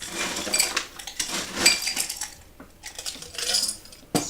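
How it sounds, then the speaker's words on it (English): Ice cubes clinking and rattling into a Collins glass for a cocktail, several bright close bursts of clatter separated by short pauses, with no talk. "I'm going to add a little extra ice."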